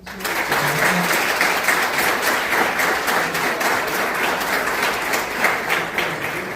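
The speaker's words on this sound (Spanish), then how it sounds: "les pido que reiteremos el aplauso para Juan" Audience applause at a lecture on railways, a dense, sustained burst of many hands clapping that starts abruptly and holds steady at close range before easing slightly.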